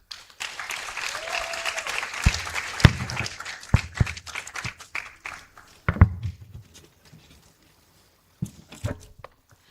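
An audience at an African Liberation Day celebration claps, starting as a fairly full round of applause and thinning into scattered, separate claps that fade out, then a few last claps near the end.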